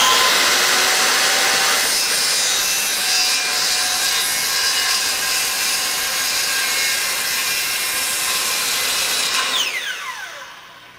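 Circular saw ripping through wood, a loud continuous cutting whine for about ten seconds that winds down as the blade spins to a stop at the end, with no talking.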